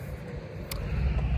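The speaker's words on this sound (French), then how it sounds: "Je suis désolé pour le bruit de toutes les voitures." Passing car traffic on a nearby road, a steady low rumble of vehicles that swells slightly toward the end, with no voices over it.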